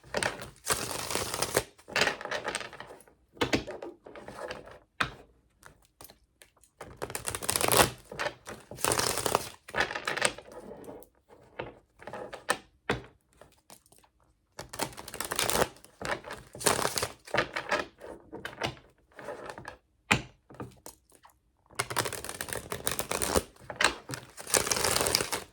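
A tarot deck being shuffled by hand: repeated short bursts of papery riffling and card slaps, close and crisp, separated by brief pauses over about twenty-five seconds, with no voices.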